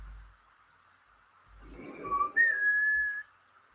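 A person whistles nearby: a short rising note, then a longer sustained tone, preceded by soft breathy rustling.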